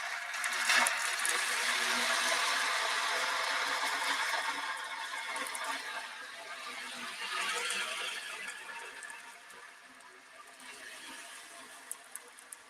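Ocean drum tilted slowly to mimic waves, a soft hissing wash of rolling beads that swells and recedes in long gentle surges, quiet and alone, ending with a few faint taps.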